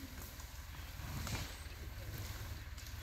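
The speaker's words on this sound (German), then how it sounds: "Also er läuft ja. Der ist sogar Standgas." A Renault tractor engine runs at idle, a low steady rumble mixed with outdoor wind noise, quiet and constant throughout.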